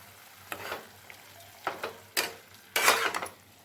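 Spices with turmeric and Kashmiri chili powder frying for a hilsa fish curry with potato and eggplant, quiet sizzling broken by four bursts of stirring and scraping in the pan, close up.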